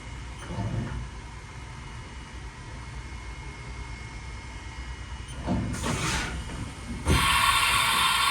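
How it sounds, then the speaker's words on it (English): A 2007 Haas VF-2SS Super Speed CNC vertical machining center changing tools: a steady mechanical hum broken by a clunk, then a short whirring slide and a louder, sustained hiss-like whir near the end. "Next, we'll show a tool change."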